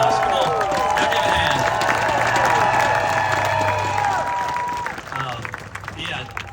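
A large outdoor crowd at the Bassmaster Elite Series finals at Palatka City Dock claps and cheers in a thick wash of applause that gradually thins toward the end, with voices and whistles scattered through it.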